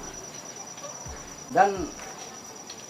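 Crickets chirp faintly from a small cricket box holding about a kilo of crickets, a steady high insect trill running under the scene while someone briefly speaks.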